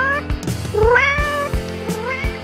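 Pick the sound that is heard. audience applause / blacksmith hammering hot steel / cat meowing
cat meowing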